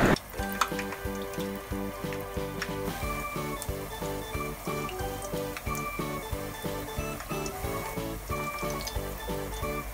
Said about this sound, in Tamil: இப்படி ஒவ்வொரு வடையாக போட்டு ஃப்ரை பண்ணி எடுத்துக்கோங்க.